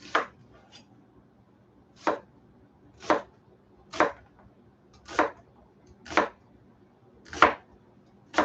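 Evenly paced knife chops through deer loin being cut into strips, about eight crisp, close strikes roughly a second apart with near silence between them.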